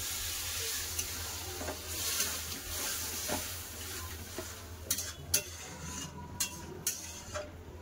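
A fish head and vegetable curry with stalks simmers in a pan after a little water is added, giving a quiet, steady sizzle with occasional spoon scrapes and knocks against the pot and no voices.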